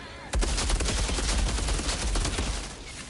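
Sustained automatic gunfire in the shooter game Outriders erupts abruptly and continues as a dense, loud stream of rapid shots with no pause.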